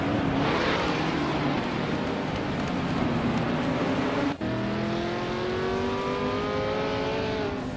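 Porsche 917 and Lola race cars roar past in a race, a loud continuous engine drone with rising and falling harmonic pitch as cars accelerate and shift, one passing cut sharply in the middle.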